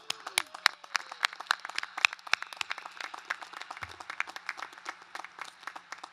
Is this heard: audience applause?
yes